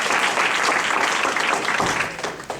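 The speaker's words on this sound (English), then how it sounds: "can we get a round of applause for our panelists?" A crowd at a panel event on undocumented immigrants becoming lawyers applauds the panelists, a dense burst of clapping that thins out over a couple of seconds.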